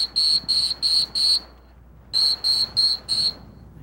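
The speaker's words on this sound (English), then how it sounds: "He's calling her in now with that staccato whistle." Two bursts of sharp, high dog-handler whistle blasts at a retriever field trial, four short pips each with a brief pause between, clear and fairly loud against quiet outdoor background.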